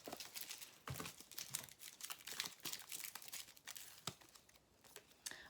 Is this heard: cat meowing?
no